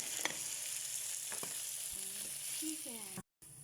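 Onion and garlic fry in hot oil with a steady close sizzle, broken by a few light clicks and clatters of the pan. No one speaks.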